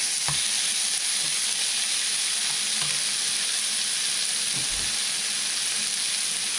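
A bagel sandwich fries in a pan with a steady, loud sizzle. A spatula scrapes and taps a few times as it is flipped halfway through cooking.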